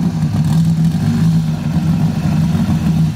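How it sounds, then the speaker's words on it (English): A Pininfarina-bodied Ferrari Monza at the Pebble Beach Concours rumbles loudly and steadily, its engine note close and unbroken for the whole stretch. "this Monza is really loud"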